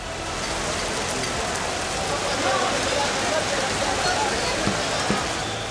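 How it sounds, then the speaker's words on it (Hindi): Heavy rain driven by strong winds falls on an outdoor political rally ground in Swat, Pakistan, a loud, steady hiss of downpour that fills the whole clip. "तेज हवाओं के साथ बारिश शुरू हो गई"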